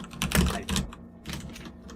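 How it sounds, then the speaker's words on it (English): Keystrokes on a computer keyboard clatter in quick irregular bursts, fairly close and moderately loud, with short pauses between flurries of typing. "Who's typing?"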